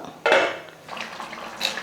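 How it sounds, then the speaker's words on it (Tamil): A plate clatters down onto a cooking pot of eggplant and field bean tamarind curry, one sharp clink followed by a few softer scrapes and taps. "ஒரு தட்டு போட்டு மூடிடலாம்"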